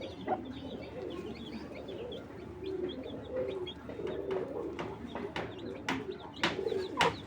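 Racing pigeons coo in soft, low, repeated rolling calls at close range, mixed with occasional sharper chirps and small clicks in a quiet loft.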